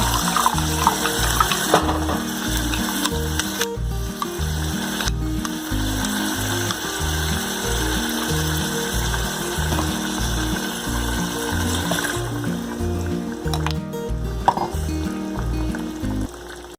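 A kitchen mixer grinder whirs and rattles continuously at close range, its motor and blades churning steadily throughout while grinding homemade sambar powder.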